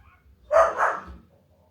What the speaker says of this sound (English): the dog decided to kick off outside the house